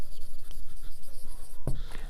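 Chalk or marker scratching across a board during a mathematics lecture: quick, dry strokes in a close, short burst, with a sharp tap near the end.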